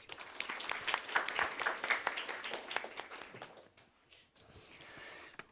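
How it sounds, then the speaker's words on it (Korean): A church congregation applauds after a choir performance, dense clapping from many hands that swells and then fades, with no voices over it. "우리 박수 한번 드리겠습니다."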